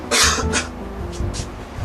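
A person coughs at close range, two harsh bursts followed by two softer ones, in a quiet indoor room during a math lesson.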